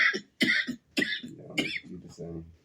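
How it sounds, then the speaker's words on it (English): Harsh bursts of coughing from a person who has been smoking Gorilla Glue cannabis, four or five loud close coughs in quick succession with throaty rasping between them. "Smoking on this Gorilla Glue got me coughing and stuff."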